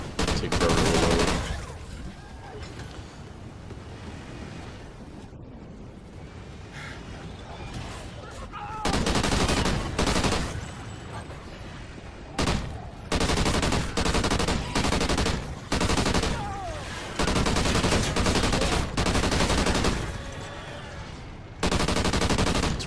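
Repeated bursts of gunfire from a slow-reloading, high-capacity gun in the video game Extinction, loud rapid volleys broken by quieter gaps during reloads, with some chatter underneath.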